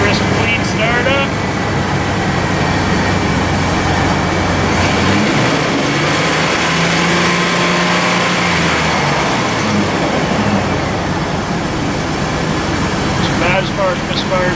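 A Chevrolet S10 pickup with a 4.3 V6 engine, brought in for possible overheating, running with a steady loud broadband roar and drone throughout, a shifting tone sweeping through the middle, close and continuous.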